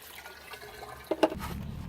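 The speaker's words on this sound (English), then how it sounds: "I fill this with the pool water" Pool water is poured into the basket of a pool pump, giving a short, close splash and gurgle of liquid after a quiet start, with no voices.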